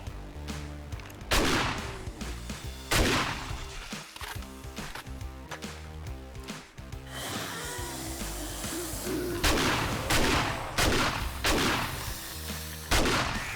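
Rapid repeated gunfire from a turret in the video game 7 Days to Die, in dense bursts across the whole stretch, loud and continuous with a layered game soundscape behind it.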